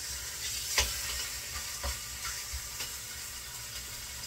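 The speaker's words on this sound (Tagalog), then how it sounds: "Yung, kung ano yung mantika po dyan sa pot, dyan po din natin lulutuin yung ating meat." Pork chops fry in oil in a pot with a constant close hiss of sizzling, punctuated by a few soft clanks and scrapes of stirring, and no voices.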